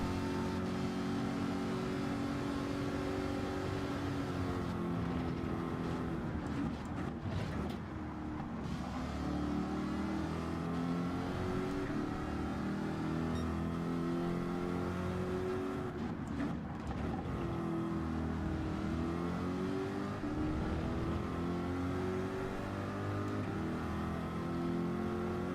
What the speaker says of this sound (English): See that Ferrari's got such good acceleration.